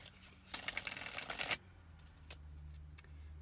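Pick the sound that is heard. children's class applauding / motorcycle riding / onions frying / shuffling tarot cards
shuffling tarot cards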